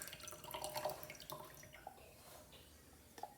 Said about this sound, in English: First, pour all the cold water out.